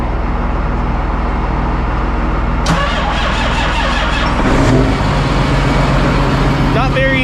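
Cold start of an old farm tractor engine: steady low rumble, then a sharp crank-and-catch as it fires and settles into a loud, close idle, with voices faintly underneath.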